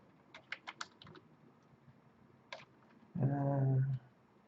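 A computer keyboard is pressed, as for a Ctrl Z shortcut: a quick run of sharp, close key clicks, one more click after a pause, then a short low hum.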